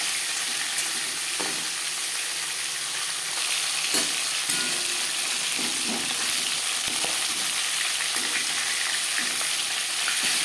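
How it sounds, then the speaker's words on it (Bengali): Steady, loud sizzling of a rohu fish head frying in a pan, continuous crackle throughout with occasional faint clinks of a utensil. "মাছের মাথা একটা সাইজ ভাজা হয়ে গেলে অপর সাইজটা উল্টে দেবে"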